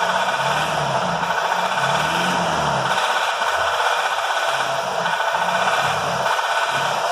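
A BMW car engine running with a knock, a steady loud mechanical drone with a broad rasping hiss and an irregular low rattling beat pulsing underneath, close up and without voices.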